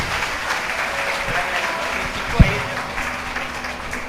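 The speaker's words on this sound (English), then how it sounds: "Please give them one more round of huge applause." Audience applause after a children's talent performance at a culture camp, moderately loud steady clapping from a crowd with a single sharp thump partway through.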